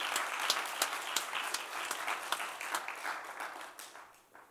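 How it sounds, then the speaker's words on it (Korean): A church congregation at a revival service claps in a quick, uneven burst of sharp individual hand claps, fairly distant and soft, tapering off toward the end. "박수 한번 쳐주세요."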